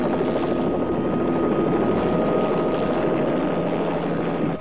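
A helicopter flies close by with a loud, steady rotor drone and engine roar that holds constant throughout, with no other sounds.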